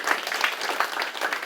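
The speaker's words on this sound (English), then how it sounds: "So I think Mr. Garrison deserves a round of applause for everything he does" An audience claps at an automotive ASE certification ceremony, a short burst of steady scattered applause in a room.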